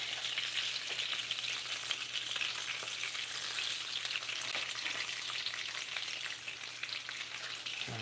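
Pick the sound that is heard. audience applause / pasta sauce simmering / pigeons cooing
pasta sauce simmering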